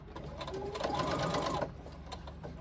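A sewing machine runs continuously, stitching a seam on a fabric pouch and moving from a 3/8 inch to a 1/4 inch seam allowance, making a close, steady mechanical whir that stops short of the end, followed by quiet handling.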